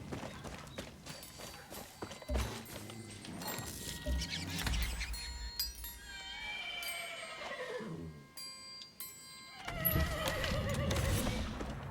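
A horse in the video game Far Cry 6 whinnies in two drawn-out, falling neighs, set against game ambience and a few hoof clip-clops.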